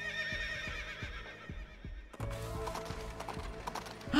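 Horse in a Princess Peach video game, with steady rhythmic hoof clip-clops at a walking pace, then a whinny as brighter game music and sound effects take over.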